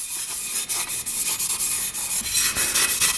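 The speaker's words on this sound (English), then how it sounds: "take the Scotch brake pad and just work that around the cylinder here" Scotch-Brite pad scuffing a WD-40-coated cylinder bore on a 400cc dirt bike engine, a steady close abrasive rubbing in quick repeated strokes with no talking.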